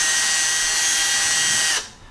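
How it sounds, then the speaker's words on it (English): A power drill boring a hole into a raw potato, a steady close whirring buzz lasting under two seconds before cutting off abruptly. "I want to drill it"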